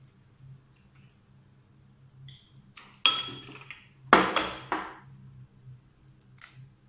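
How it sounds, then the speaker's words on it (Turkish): Eggs cracked and separated into glass bowls: a few sharp glassy taps and clinks, then shell knocks and a slippery drip, close and crisp against a faint low hum, with quiet gaps between. "3 tane yumurtamın beyazlarını bir kaseye, sarılarını da diğer kaseye alıyorum."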